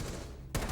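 A grenade detonates in a competitive video game match, a sudden loud low-end burst that cuts in abruptly after a stretch of quieter game noise and rumbles on briefly.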